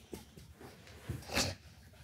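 A dog in a talk-show studio snorts and breathes in short soft bursts, with a louder snuffling huff near the end, all close and fairly quiet.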